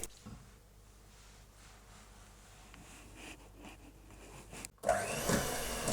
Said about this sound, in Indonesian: Kita mixer dengan kecepatan rendah sampai tercampur saja.